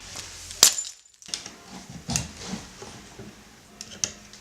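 Glass breaks in a sharp single crash, followed by a brief silence and then scattered faint tinkles and clatters of falling shards.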